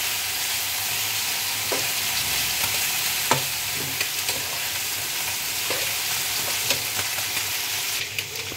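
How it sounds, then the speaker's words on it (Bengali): Winter vegetables frying with turmeric powder in oil for a small-fish chachchari, an even, continuous sizzle broken by several light spoon-scrape clicks, close and without talk. "হলুদ গুঁড়োটাকে ভালো করে মিশিয়ে নিয়ে সবজি ভেজে নেব।"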